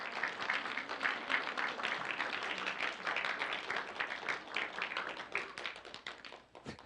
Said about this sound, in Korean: 옆 사람에게 한 번 더 응원의 박수를 한번 주세요.